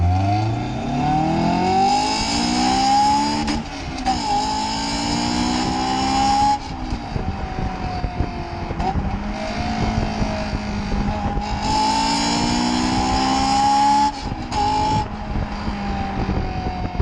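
Honda S2000 engine revving hard with repeated throttle blips, loud and close, the pitch climbing and dropping in several rising sweeps with brief dips between them and no talk.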